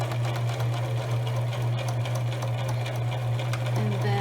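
A sewing machine stitches a glasses pouch, back stitching with a close, steady motor hum and rapid needle clatter running continuously, shifting slightly in pitch near the end as the stitching direction changes.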